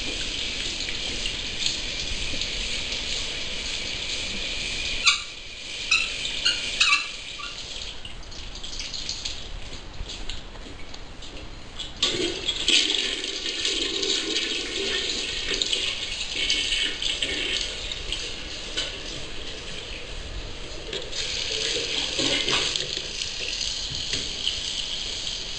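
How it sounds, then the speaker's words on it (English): A home's shower running during an inspection in The Colony, Texas, giving a steady hiss of spraying water that holds for the whole stretch, with brief knocks and a short dip partway through. "Shower's running."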